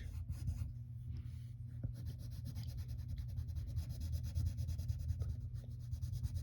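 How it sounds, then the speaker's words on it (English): A pencil shades on paper with the side of its lead while drawing Sebastian from The Little Mermaid, giving a steady, soft, close scratchy rubbing of repeated back-and-forth strokes with no talking. "Then take the side of your pencil and fill his inside of his mouth in."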